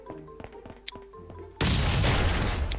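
A few light clicks and taps in a survival video game give way to a sudden loud explosive-barrel blast that rumbles on with crackling debris for over a second.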